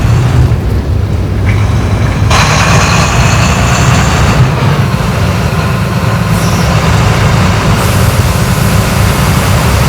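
A private bus engine in Euro Truck Simulator 2 on a Kovai to Tirupur run, a loud, continuous low drone with shifting higher whine as the engine works, no voices.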